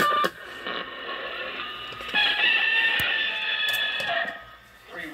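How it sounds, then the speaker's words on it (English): A rooster crows through a crackly, tinny CB radio channel, with static bursts and clicks around it. "Brass Monkey with the rooster."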